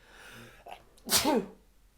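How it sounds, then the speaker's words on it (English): A single sharp sneeze, preceded by a quick intake of breath, close to the microphone in an otherwise quiet room. "Sorry. Just had to sneeze."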